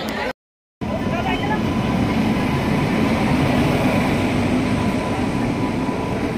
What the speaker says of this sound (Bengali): আমাদের সম্বলেশ্বরী এক্সপ্রেস ঢুকে গেছে